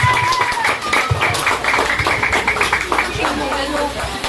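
Guests clap together at a child's birthday party, a brisk, busy patter that runs throughout while voices chatter and call out over it.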